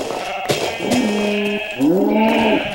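Sheep bleat repeatedly in a Minecraft game, several wavering, tonal calls overlapping one another, fairly loud and close with no talking.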